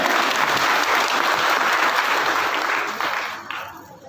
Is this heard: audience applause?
yes